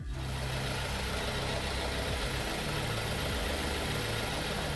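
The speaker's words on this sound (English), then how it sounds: "Now that the engine is running" A car engine idles steadily during an automatic transmission oil change on a ZF 6HP19 six-speed gearbox, a dense, even rumble with broadband noise, loud and constant, with no talk.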